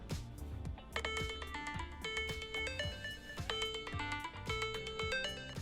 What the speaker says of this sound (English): So it rings the phone, and now I can find my phone.